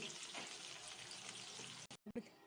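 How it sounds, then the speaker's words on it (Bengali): Mutton pakoda pieces deep fry together in oil on medium heat in a home kitchen. A quiet, even bubbling hiss runs throughout, then cuts off abruptly with a few short bursts at the end. "আমি এগুলো সব ভাজছি, সবগুলো একসঙ্গে মিডিয়াম আঁচে"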